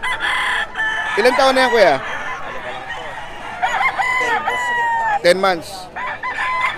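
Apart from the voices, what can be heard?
Sweater breed rooster crowing, 10 months old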